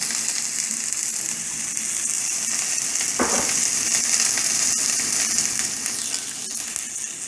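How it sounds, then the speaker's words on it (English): Onions and garlic sizzle and fry steadily in a risotto pot, a loud continuous hiss with a brief stirring scrape partway through. "I'm going to throw the onions in with the garlic."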